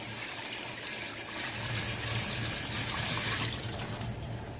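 Cold tap water runs steadily into a pot or sink to cool freshly boiled groundnuts and corn, a continuous close gushing splash with no talk.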